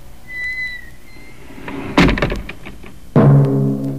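A heavy cave door in a mountain slams shut with a loud thud near the two-second mark, and a second booming slam follows a little over a second later, both ringing out alone without any talk.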